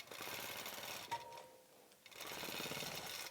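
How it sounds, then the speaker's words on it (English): A sewing machine stitches along the edge of a minky quilt with a rapid, steady mechanical whir, pausing briefly midway before running again at full speed. "And I'll just sew up this edge here so it's handled."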